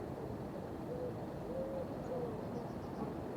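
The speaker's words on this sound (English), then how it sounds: "Can you hear the mourning dove singing?" A mourning dove coos in a quiet outdoor setting, with a few soft, low hoots drifting faintly from a distance over steady background hiss.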